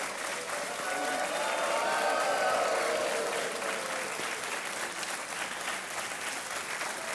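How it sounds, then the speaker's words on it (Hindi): Studio audience at the Kaun Banega Crorepati game show breaking into loud, sustained applause, a dense continuous clapping that swells and then holds steady throughout, with no voices over it. "ताली बजती रहे देवी और सज्जनों।"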